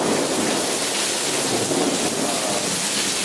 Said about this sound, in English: I've never seen or heard lightning that loud before in my life.